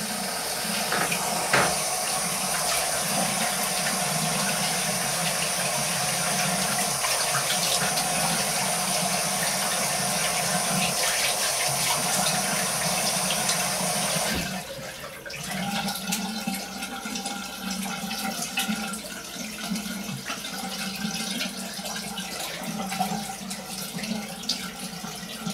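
Tap water runs steadily into a sink while a razor is rinsed under it, a continuous splashing rush that drops to a softer, thinner trickle partway through, with no talking.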